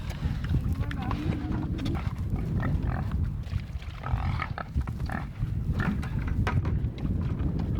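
A pig on a homestead grunts and snorts close by amid rustling, movement and scuffing noise, with people talking throughout.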